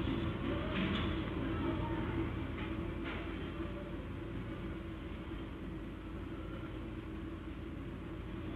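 A steam locomotive, shown in a vintage factory setting, rolls past as a steady, heavy low rumble that holds evenly throughout, with a couple of faint clanks near the start.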